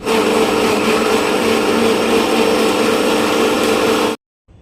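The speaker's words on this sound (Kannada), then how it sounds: "ಇವಾಗ ಇದನ್ನು ಗ್ರೈಂಡ್ ಮಾಡ್ಕೊಂಬರೋಣ ಬನ್ನಿ" A mixer grinder runs loudly and steadily up close, grinding coconut, ginger, garlic, cinnamon, cloves, chili powder and coriander leaves for a chicken biryani masala, then stops abruptly.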